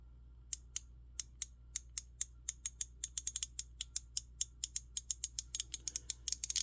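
A WORKPRO 90-tooth low-profile ratchet with Kobalt-style internals clicks in a steady run of sharp, close ticks that speed up toward the end over a faint background hum.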